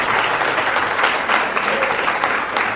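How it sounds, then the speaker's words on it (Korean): An audience claps at a Korean politicians' forum in Seoul, a loud and dense round of applause that holds steady from start to finish. "여러분 큰 박수 부탁드리겠습니다."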